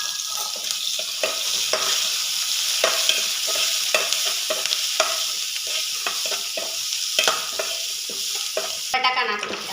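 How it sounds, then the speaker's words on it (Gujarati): Green chili-garlic paste and curry leaves fry in hot oil for batata vada, giving a close, steady sizzle broken by frequent spatula stirs and scrapes against the pan. "લીલા મરચાં અને લસણની પેસ્ટ નાખી દઈએ। તેમાં મીઠો લીમડો નાખી દઈએ।"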